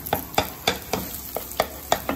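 Eggs cooking in a pan for fried rice, with about eight evenly spaced scraping stirs of a spatula over a faint sizzle, close and moderately loud.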